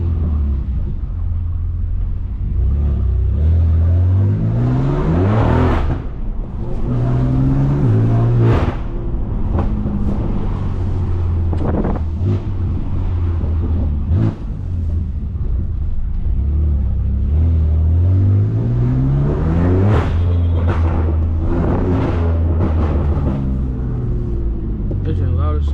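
A straight-piped 650HP BMW F80 M3 revs and accelerates hard, with loud, close exhaust rumble rising and falling through repeated pulls and gear changes over a steady drone.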